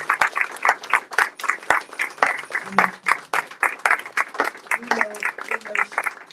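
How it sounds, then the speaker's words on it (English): An audience at a book release event claps in quick, uneven bursts, moderately close, with voices speaking or calling out over the clapping. "give Mama Marimba a real big round of applause"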